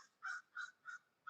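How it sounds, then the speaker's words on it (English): Crows cawing outdoors, four loud, evenly spaced harsh caws in quick succession, each clear and close with no talk. "We are outside, and the crows are happy."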